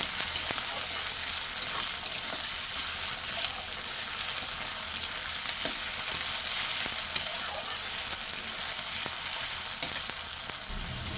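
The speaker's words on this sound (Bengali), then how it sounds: "আলুগুলো একটু ভাজা ভাজা করে নেব" Steady sizzling of potatoes frying in hot oil fills the clip, with occasional faint clicks and stirring noises, no voices.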